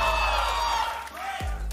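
An esports arena crowd cheers and whoops for Fnatic in a loud, dense roar, with a caster's voice talking over part of it.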